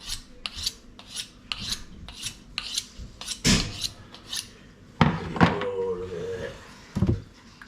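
A knife rasps repeatedly while filleting an eel along its backbone in New Zealand, producing a steady run of scraping strokes, with louder cuts near the end and voices talking intermittently underneath.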